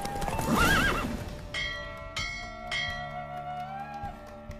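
A horse neighs loudly in the video game The Witcher 3, followed by galloping hoofbeats and sharp clanking hits during a race, with a steady tonal hum underneath.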